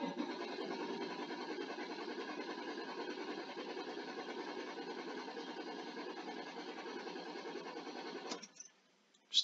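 A six-cylinder engine cranks on the starter during a scan tool test, giving a steady, rhythmic whirring churn for about eight seconds before cutting off abruptly into near silence.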